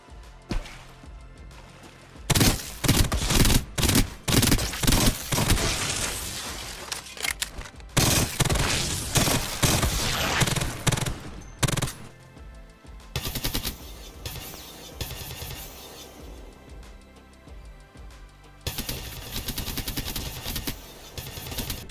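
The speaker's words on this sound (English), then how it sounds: "This is what it would look like if Apex brought these silencers into the game." Suppressed gunfire from silencer-equipped weapons in a modded Apex Legends game, rapid bursts of muffled shots in loud clusters separated by brief pauses, running through most of the stretch with no speech.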